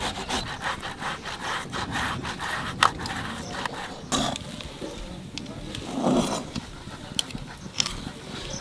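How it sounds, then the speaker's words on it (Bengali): A boiled potato is rubbed against a grater, giving close, rough scraping strokes in an uneven back-and-forth rhythm with a few sharper knocks. "আলুটা সেদ্ধ করে রেখেছিলাম, এখন ঘষে নেব"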